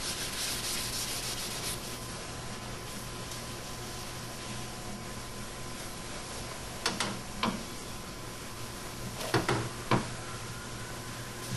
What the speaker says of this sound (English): You can hear the sandpaper,